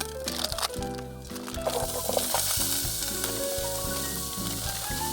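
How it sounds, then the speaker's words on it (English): Bacon and maple sausages fry in a pan at a cold-weather camp near High Cup Nick, giving a steady close sizzle that continues throughout, with tonal, music-like sounds running underneath. "So I've got the sausages, fry them off a little bit."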